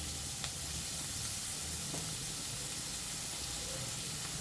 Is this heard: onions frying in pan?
yes